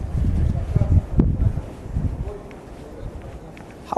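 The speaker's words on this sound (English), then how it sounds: "How is it so windy today?" Gusty wind buffeting the microphone in low rumbling bursts on a Tokyo street on New Year's Day, with a voice and faint rustling, easing off toward the end.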